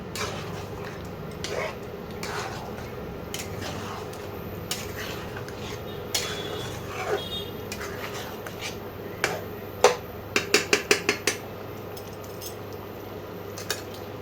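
Chicken is stir-fried with spice paste in a pan for sesame chicken: a metal utensil clinks and scrapes against the pan over a steady low cooking hiss, with a quick run of sharper clinks near the end.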